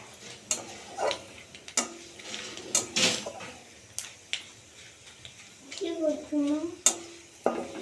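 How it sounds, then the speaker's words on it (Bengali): Panch phoron and chalta fry and get stirred in a pan for chalta pickle: a soft sizzle runs under irregular scraping and knocking strokes of a spoon against the pan, with a brief faint voice near the end. "পাঁচফোড়নটা একটু ভাজা ভাজা হলে তারপর দিয়ে দেবো চালতাগুলো দিয়ে একটু ভাজা ভাজা করে নেবো"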